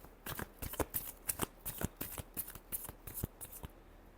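Tarot cards being shuffled by hand, a close run of about a dozen quick, crisp riffling slaps in a steady rhythm, alone with no talk.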